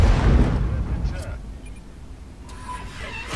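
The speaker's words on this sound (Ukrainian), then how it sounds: "Кидає по нас арта." Artillery fire hits near tanks in a tank battle video game, with a heavy low boom at the start that rumbles and fades. A faint, steady game background continues afterward.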